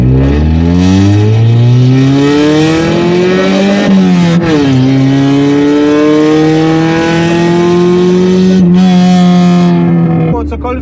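A Nissan Micra K11 small hatchback engine droning loudly from inside the car while driving, its pitch climbing through the gears with brief drops at each shift and a steady cruise in between.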